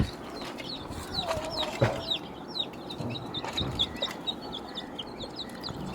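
Country chickens and a rooster in a village yard, with repeated short high clucks and calls scattered steadily throughout, a few louder squawks near the start, over a soft outdoor background.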